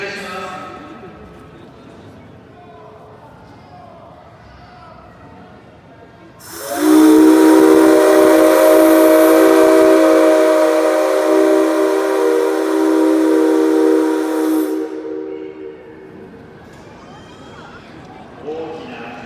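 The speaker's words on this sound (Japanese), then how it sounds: "大きな汽笛の音がして、電車台がゆっくりと回転を始めました。" The C57 135 steam locomotive, on a turntable at a railway museum, sounds its steam whistle in one loud, close, sustained blast of about eight seconds, with breathy hiss throughout. A voice narrates before and after.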